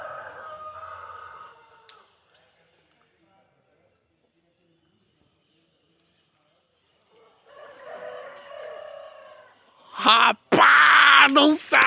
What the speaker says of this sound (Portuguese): Olha o canto da galinha.